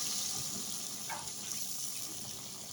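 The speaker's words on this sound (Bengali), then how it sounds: "এখন দিয়ে দিব এটাতে ঝোল, পরিমাণ মতো ঝোল দিয়ে দিব।" Broth is poured into a pan of pangas fish curry cooked with yardlong beans, giving a soft, continuous watery trickle at low level with a brief splash near the middle.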